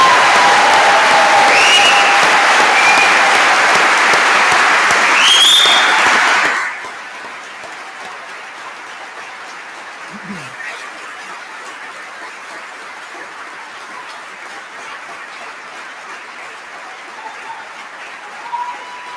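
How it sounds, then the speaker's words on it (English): Loud, dense applause from a graduation ceremony audience fills the first several seconds, then cuts off abruptly, leaving a quiet hall with faint room noise. "I think we'd all like to give you an extra round of applause."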